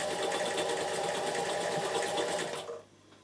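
A Bernina 740 sewing machine runs steadily, stitching a blind hem with a loud, even mechanical whir that carries on for most of the moment, then cuts off abruptly and leaves quiet room tone.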